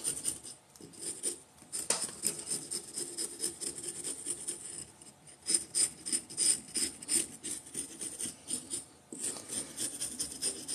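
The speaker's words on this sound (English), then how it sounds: "take my Surform tool, peel the whole outside of it off" A Surform rasp shaves the outer skin of a pumpkin being carved into a sculpture, making repeated close scraping strokes in an uneven rhythm with brief pauses.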